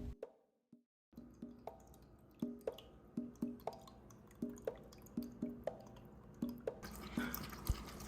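An Apetbaby 2-litre pet water fountain runs with water dripping and plopping in a close, fairly regular patter, quiet and alone, growing busier toward the end.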